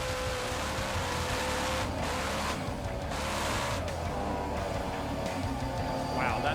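Onboard a nitro funny car at a Darwin drag strip, the engine roars loud and raw, cutting out and surging back several times as the throttle is lifted and stabbed.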